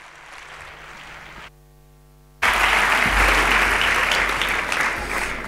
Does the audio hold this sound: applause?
yes